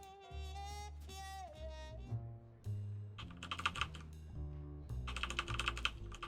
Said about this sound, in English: you can hear me hammering the keyboard